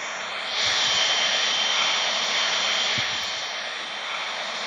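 A plane's engine in the Flight Simulator 2018 video game drones steadily with a smooth, even hum and a high whine on top. It swells slightly after the start and holds without any talk.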